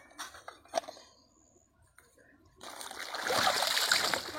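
Running water splashes and trickles over dishes being washed outdoors in a village, a steady broadband wash that swells louder in the second half after brief clinks and quieter moments.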